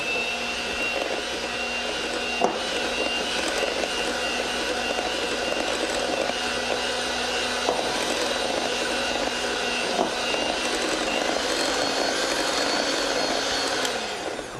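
Electric hand mixer from a Cuisinart setup whirring steadily as it beats chocolate souffle cake batter in a bowl, a continuous close motor drone running without pause through the whole stretch, with no voices.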